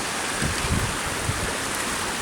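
Hampton Creek, a stream feeding into 18 Mile Creek, gives off a steady close rush of flowing water with soft splashy bursts and no voices.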